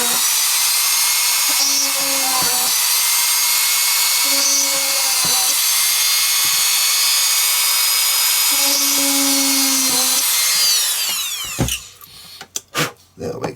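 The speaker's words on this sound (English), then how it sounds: "I'm going to drill 4 holes. So bear with me. Got my trusty Dremel out here." A handheld Dremel rotary tool drills holes in a steampunk detection-unit build, a steady close high-pitched whine that runs for about eleven seconds before cutting off, with brief clatter at the end.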